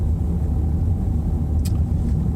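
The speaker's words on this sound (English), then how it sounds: "let's try third gear there, see if the car can just about pull, which it can" A car pulling gently in third gear at about 20 mph under light throttle, a steady low engine rumble with road noise inside the cabin and a brief sharp click partway through.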